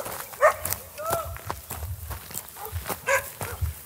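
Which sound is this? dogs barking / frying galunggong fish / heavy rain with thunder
dogs barking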